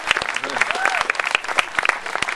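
A crowd at an outdoor park event applauds for Miss Teen America, a dense, steady patter of many hands with people talking over it throughout.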